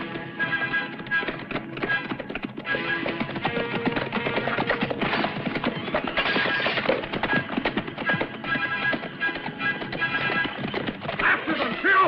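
Horses gallop in a 1963 epic adventure film, a dense, fast clatter of many hooves sustained throughout, loud and close, with shouts mixed in.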